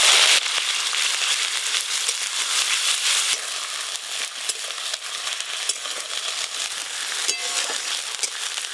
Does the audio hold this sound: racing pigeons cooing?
no